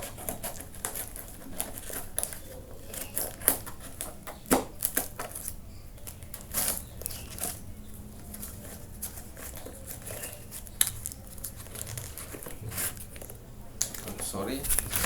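Scissors cut open a plastic package of Suzuki Genuine Parts for a Grand Vitara fan belt job, giving a run of close, quiet snips, clicks and crinkles in an irregular rhythm.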